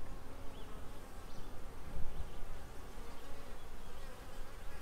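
A honeybee swarm buzzes steadily at close range during capture, a dense, continuous drone with faint individual bees flying past and no voices.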